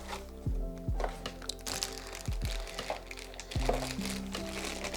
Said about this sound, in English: it comes in this, I guess, plastic bag